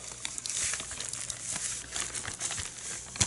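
Paper is cut for a scrapbooking flower, giving soft, close crinkling and snipping sounds in quick irregular bursts, faint and without talk.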